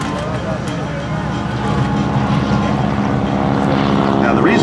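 Boeing Model 75 biplane, first flown in 1934, droning steadily with its engine throttled back during a wingwalking act at an airshow, a continuous propeller hum that swells slightly louder midway, with a voice talking over it.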